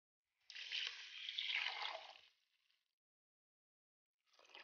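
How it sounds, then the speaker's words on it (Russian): Hot water pours steadily into a pot of rice for about two seconds, then tapers off; after a pause, a second pour begins near the end. No voices. "И зальем горячей водой."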